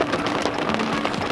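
Hail falling on an RV in a steady, dense rattle of ice pellets striking hard surfaces, close and continuous with no clear pauses.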